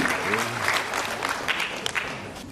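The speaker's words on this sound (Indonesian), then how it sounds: "Beri tepuk tangan yang meriah untuk teman-teman dari juga Pak Ahmad yang pernah hadir." Audience applause at a signing ceremony between a university public health faculty and a Honda-Astra foundation, scattered clapping from a modest crowd that swells briefly, with a voice faintly audible underneath early on.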